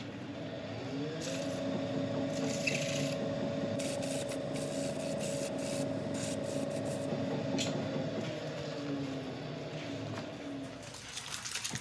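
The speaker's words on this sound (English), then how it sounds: "I'm just going to get a little bit of sandpaper just to make sure that there's no raggedy torn out pieces on the edge" Sandpaper is held against a torn wood edge spinning on a lathe, a steady hissing rub under the motor's continuous hum, close and fairly quiet throughout.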